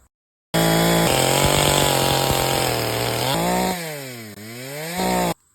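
A Husqvarna 450 Rancher gas chainsaw starts up loud and close, idling and buzzing, then revs high with a rising and falling whine before cutting off abruptly.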